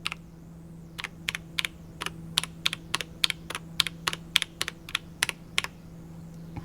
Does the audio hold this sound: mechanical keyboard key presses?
yes